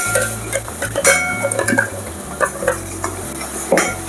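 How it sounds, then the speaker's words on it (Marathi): Ground masala paste goes into hot oil with chili powder in a cooking pot and is stirred briskly, giving repeated scraping clinks of a spoon against metal over a soft sizzle, close and alone without voices. "मसाला करपण्याच्या अगोदरच आपल्याला हे वाटण घालून घ्यायचे."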